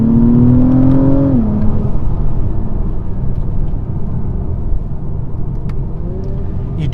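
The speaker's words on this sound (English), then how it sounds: "You do get rev matched downshifts with the Type S." Acura TLX Type S engine held at high revs, then dropping sharply as it downshifts with rev matching, settling into a loud, steady drone of engine and road noise from inside the car.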